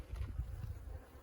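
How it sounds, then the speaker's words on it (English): Honey bees in a starving ranch hive buzz in a low, faint drone, with a few louder swells as individual bees pass near. "Ton of bees down there though."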